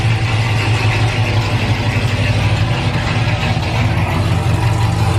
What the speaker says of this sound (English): The camera does no justice at all to how this car sounds.